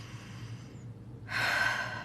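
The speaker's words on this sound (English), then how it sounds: "Nice deep belly breaths." A slow, deep belly breath is taken and let out: a quiet, drawn-out airy inhale, then a louder, broad rushing exhale near the microphone, with no talking.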